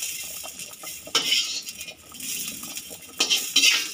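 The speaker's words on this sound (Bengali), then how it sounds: "হালকা হাতে একটু নেড়ে দেবো" A spoon scrapes and clinks against a metal pot while vegetarian khichuri of rice, lentils, beans and carrots is stirred, with light intermittent clatter and two sharper metallic bursts, no talking.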